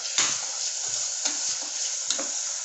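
Curry leaves dropped into chicken frying in a pan for rasam give a steady broadband sizzle, with a few sharp spatters and stirring scrapes punctuating it close by; no one speaks.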